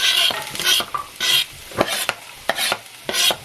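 Cauli-rice and vegetables stir-fry in sesame oil, with bright sizzling bursts as a utensil scrapes and stirs the pan in quick, uneven strokes, close and fairly loud.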